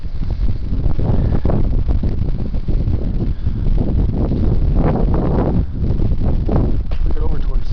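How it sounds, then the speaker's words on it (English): Steady wind buffets the microphone with a constant low rumble, gusting slightly stronger at moments, on Mount Peltier in the Angeles National Forest. "Windy up here, actually."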